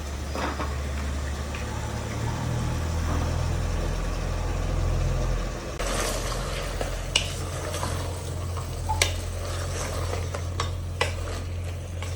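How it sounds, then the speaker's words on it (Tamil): Mushrooms with ginger and garlic frying in a pan, a steady sizzle with a low hum at first, then scraping stirs and sharp clinks of a utensil against the pan. "இஞ்சி பூண்டு நல்லா வதங்கிச்சு கொஞ்சம் மஷ்ரூம் கிட்டே போட்டுரும்"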